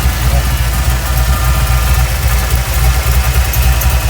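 A 454 big-block V8 in a 1971 Le Mans with stainless headers idles steadily at close range, its deep, rumbling low throb continuous and unbroken throughout.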